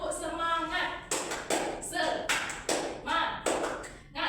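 A schoolteacher leads a class rhythm clap in a classroom, with sharp hand claps landing in a steady pattern of about six strikes between stretches of loud chanting voices.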